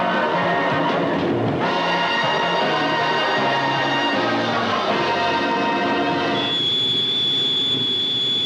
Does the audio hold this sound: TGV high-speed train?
yes